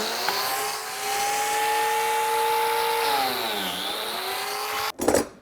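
Power joinery tool plunge-cutting into wood for a jewelry box, a steady loud motor whine that holds pitch, dips briefly as it bites, then cuts off, followed by a short clatter.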